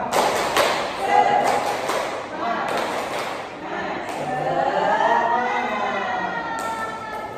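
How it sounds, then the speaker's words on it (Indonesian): A class performs the 'tepuk semangat' spirit clap, sharp rhythmic bursts of claps in set patterns alternating with a group chanting in unison, loud and close. "ada baiknya kita bertepuk semangat terlebih dahulu ya"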